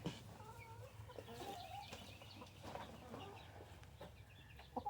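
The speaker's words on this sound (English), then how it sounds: "We're going to go down here and see all our broody hens." Broody Buff Orpington hens cluck steadily and close by in a farmyard, with a few brief louder squawks over a constant low background hum; no one speaks.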